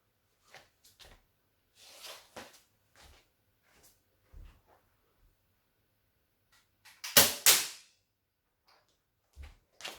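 A toy dart pistol is cocked and fired at a wall about six metres away, giving a sharp burst of snapping and clacking near the middle, with a few scattered softer clicks and handling knocks before and after.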